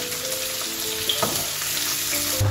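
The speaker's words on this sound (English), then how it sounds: "Now add this liver to the onion. Then stir again." Liver frying with onions in a pan for a Nigerian liver pie filling, a steady close sizzle with scraping and clinking as the mixture is stirred.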